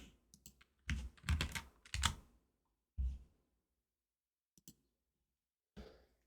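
Keys clatter on a computer keyboard as a command is entered in Orion, a helper program for Ultima Online, in close, crisp bursts of rapid typing separated by pauses, ending with a few isolated clicks.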